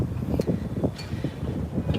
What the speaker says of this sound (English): Maybe because it's so windy right now